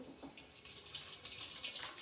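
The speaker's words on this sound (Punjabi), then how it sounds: "ਇੱਥੇ ਇਹਦੇ ਵਿੱਚ ਆਪਾਂ ਲੈ ਲਿਆ ਜੋ ਆਪਣਾ ਕਿ ਗਰਮ-ਗਰਮ ਪਾਣੀ" Hot, freshly boiled water poured into a container for soaking combs, a soft, steady splashing trickle heard close but faint, with no voices.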